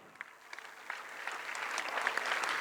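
An audience at a community anniversary celebration breaks into applause, starting with a few scattered claps and building into steady, moderately loud clapping.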